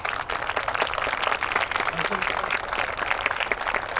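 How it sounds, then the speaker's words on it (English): An audience at a Hmong and Lao veterans' remembrance event at a state capitol applauds a Hmong woman senator: steady, dense clapping for about four seconds, with voices mixed in. "Let's give a big round of applause to our Hmong female legislator, Senator Susan Pa"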